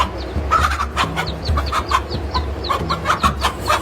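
A protective mother hen clucks repeatedly while facing off with cobras, steady close clucks and sharp calls in a quick uneven rhythm over a faint outdoor background.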